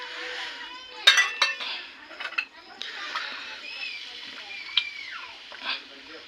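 A utensil clinks and scrapes against a pot as curd is stirred into paya biryani gravy, with sharp metallic knocks and wet mixing noises in the foreground while people talk.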